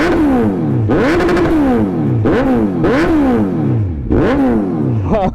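A superbike engine revved hard through its exhaust at a standstill, repeated loud throttle blips that rise sharply in pitch and fall away, about four or five rising surges in quick succession.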